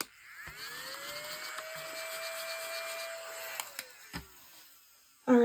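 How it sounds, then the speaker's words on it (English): A household vacuum cleaner powers up with a rising electric whine, holds a steady hum for about three seconds, then winds down and is followed by a few clicks and knocks. "Let's get our trusty dusty vacuum out."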